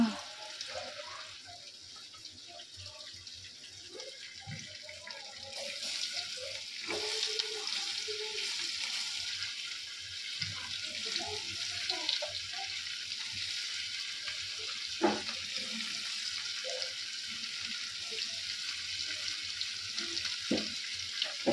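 Paneer pieces rubbed with salt and turmeric fry lightly in hot oil during home vegetarian Bengali cooking, giving a steady close sizzle with occasional soft clinks and stirring sounds throughout.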